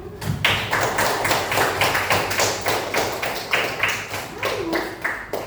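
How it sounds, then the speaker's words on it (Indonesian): A classroom of students clapping for a classmate, a burst of quick, uneven hand claps that keeps up steadily for several seconds, fairly close and lively. "tepuk tangan buat Amer"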